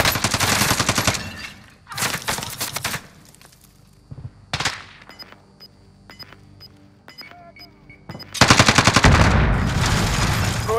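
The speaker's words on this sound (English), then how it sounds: "Taking direct fire!" Gunfire in the video game Call of Duty: Modern Warfare, in loud, close bursts of rapid automatic shots, with quieter gaps and beeps between them and a long, heavy final volley.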